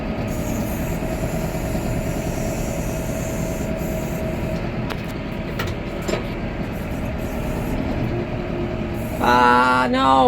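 A tractor engine drones steadily and loudly throughout, a continuous low rumble with a whirring fan, heard from the cab, ending in a brief higher whine.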